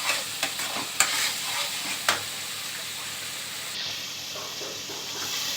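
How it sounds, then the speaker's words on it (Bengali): A spice paste frying in oil for dhokar dalna is stirred, with a few sharp scrapes early on and then a steady hiss and sizzle close by. "এবার এটাকে আমি মশলাটা যতক্ষণ না হয় একটু নাড়তে হবে"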